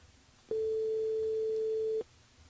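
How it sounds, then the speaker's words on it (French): A single electronic telephone tone sounds on a radio station's phone line. It is one steady beep of about one and a half seconds, clear but fairly quiet over a faint background hiss. "Ah bah déjà ça sonne"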